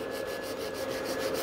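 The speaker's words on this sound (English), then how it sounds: "So I've got my file, and we have to get those coffin shape as well." A nail file scrapes rapidly back and forth across coffin-shaped nail extensions made from tips on short nails, a close, even rasping rhythm of quick strokes with no voices.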